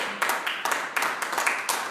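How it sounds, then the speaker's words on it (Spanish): A congregation applauds at a church service, with a quick run of bright overlapping claps that come in small rhythmic bursts, moderately loud and close. "Denle un aplauso al Señor, por favor."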